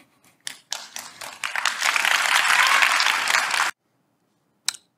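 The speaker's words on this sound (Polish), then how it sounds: "Te oklaski na koniec mnie zawsze rozwalają" A crowd claps at an event hosted by Trzaskowski, starting with a few scattered claps that swell into a dense burst of applause lasting about three seconds before it cuts off abruptly.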